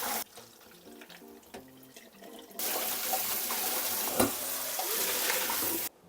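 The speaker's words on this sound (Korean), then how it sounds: "이렇게 해서 이제 물을 받아서 깨끗이 씻어주면 됩니다" Shrimp get rinsed under a running tap, starting with quiet handling and light clatter, then a steady loud gush of water for about three seconds before it cuts off.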